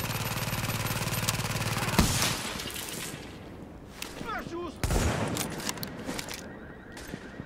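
Gunfire from The Division's Dark Zone in a team match, sharp bursts and single cracks at close range, some loud impacts, mixed with game effects and someone talking over the action.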